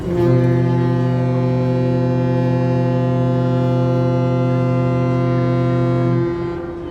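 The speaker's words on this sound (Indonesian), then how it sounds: "Trompet kapal telah dibunyikan, tandanya kapal akan segera berangkat." Deep, loud ship's horn of the passenger vessel KM Nggapulu at port in Makassar, one steady sustained blast lasting about six seconds with rich low harmonics, then fading out.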